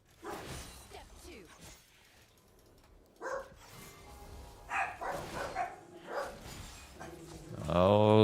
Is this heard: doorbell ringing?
no